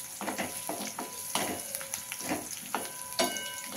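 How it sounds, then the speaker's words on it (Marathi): Sliced onion sautés in a pan for masala bhindi, sizzling quietly under repeated scraping strokes of a spatula in a steady stirring rhythm. "आता आपण कांदा छान परतून घेऊया"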